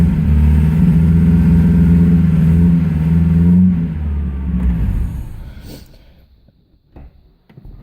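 A Ford Taunus 1600 fitted with a swapped 2-litre engine and 5-speed runs close by with a loud, steady rumble that drops away after a few seconds, leaving faint scattered knocks.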